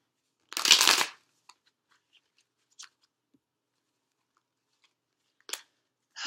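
Tarot cards are shuffled in one short, crisp riffle near the start, followed by a few faint, scattered card taps and clicks in an otherwise quiet room.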